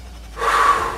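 A single audible inhale through the mouth while lifting dumbbells during a shoulder workout, a short breathy rise that swells and fades within about a second, close to the microphone.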